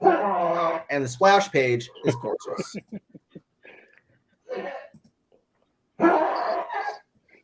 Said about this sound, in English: That's my dog. He's so excited.